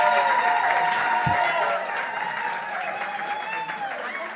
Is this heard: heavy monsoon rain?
no